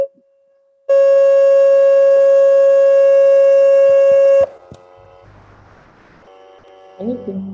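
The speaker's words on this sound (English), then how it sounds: "Can you stop the alarm?" A phone alarm rings loud and continuous in a piercing steady tone for several seconds, then cuts off, leaving faint buzzy feedback and stray tones behind.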